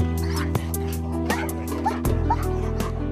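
Afghan landmine detection dog trained to sniff out TNT barking in a few sharp repeated bursts, fairly close and loud, over a steady low machine hum.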